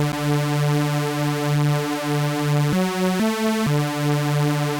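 A buzzy sawtooth-wave synth bass with unison detune holds a steady low note with a thick, slightly wavering texture, briefly stepping to higher notes before returning.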